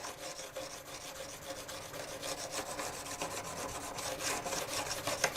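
A scraper blade being honed on a stone, giving a steady, continuous rasping rub that runs unbroken throughout at close range with no voices.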